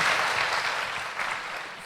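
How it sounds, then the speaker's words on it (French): Audience at a conference applauds in a dense, sustained round of clapping that tapers slightly toward the end, with no speech over it. "On vous applaudit effectivement."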